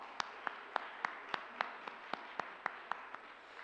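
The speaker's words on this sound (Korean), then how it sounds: "다시 한번 박수 부탁드립니다." Steady, rhythmic applause from a church congregation at a pastor's retirement service: about a dozen sharp, evenly spaced claps, fairly faint and distant, with no talking.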